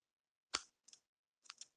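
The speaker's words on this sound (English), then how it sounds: "I'm going to grab my scissors. I'm going to cut" Scissors snip thread in a quiet room: one sharp cut followed by two softer snips, close by, with no talk. The scissors are a little dull.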